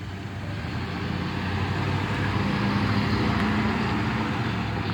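A 1977 GMC pickup truck's engine hums steadily at a moderate distance as it drives around the block, a continuous rumbling drive with no talking over it.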